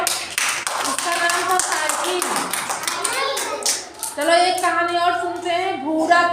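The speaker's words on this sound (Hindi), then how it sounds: "चलो ताली बजाओ।" Children clap together in a classroom storytelling session, a fast scattered burst of hand claps that runs under overlapping young voices and singing-like chatter, which continues after the clapping thins out.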